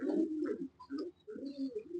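Andalusian pigeons, a male and female pair, coo in soft, rolling bursts close by, with a few brief higher chirps between the low calls.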